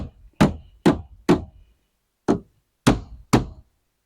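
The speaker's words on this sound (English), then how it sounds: "Take my little baby hammer here." Six sharp, close taps from a small hammer on a truck topper shell land in an uneven rhythm, each short and solid, with brief silent pauses between them.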